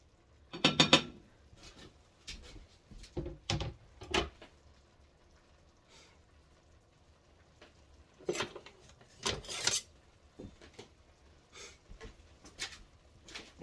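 A spoon stirs white onion in a pot for chili con carne, giving irregular scraping and metallic clanks against the pot that come in scattered bursts with quiet gaps between them, with no talking.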